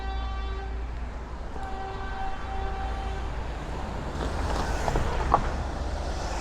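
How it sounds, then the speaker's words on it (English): A Q subway train rumbles past on an elevated line in Brooklyn with a steady low roar, sustained horn-like tones ringing out, and metallic squealing and clatter rising near the end. "we're about to pass under the first train line. That looks like the Q train."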